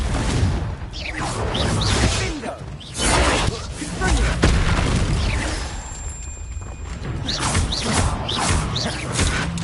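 Fiery Confringo spell blasts in the Hogwarts Legacy video game: loud booming explosions with shattering, whooshing bursts, repeated over a dense, continuous battle soundscape.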